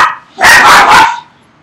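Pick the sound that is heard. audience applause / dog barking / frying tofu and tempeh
dog barking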